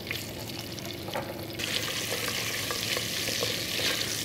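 Roughly chopped onions are added to a hot pan and stirred, giving a constant close sizzle that turns louder and brighter once they hit the oil, with scraping stirs throughout and no talking.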